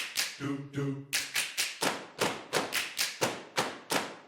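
A sequence of sharp percussive hits from a Spitfire Audio choir plugin, roughly a dozen evenly spaced thumps and slaps, with a couple of tonal booming strikes early on, played alone.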